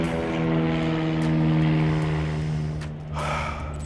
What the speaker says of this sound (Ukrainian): Так, зараз літак прилетить.